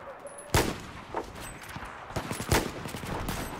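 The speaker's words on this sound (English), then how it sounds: "Alright, I'm missing a few of these easy shots here." Gunfire from Battlefield 4 multiplayer on PS4 comes as a few sharp shots and bursts with loud cracks over a rumbling battlefield background, with no talk.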